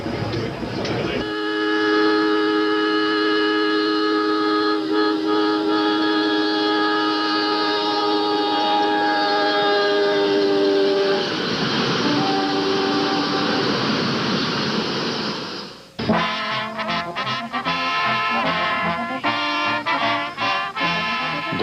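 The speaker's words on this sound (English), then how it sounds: "I come all the way from California to ride this train." A South Shore Line passenger train blows long, steady horn chords over a rumbling run, then the horn cuts off and rattling, clacking wheel and car noise follows, loud and close.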